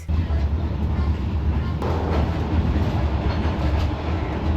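A train in Vietnam rolls along the rails with a steady, loud low rumble and faint clatter, heard from inside a carriage.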